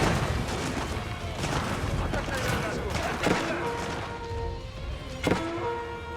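Units in a real-time strategy battle in Age of Empires 4 trade gunfire, scattered cracking shots and heavier booms over a busy clatter of combat, with a voice commentating over the action.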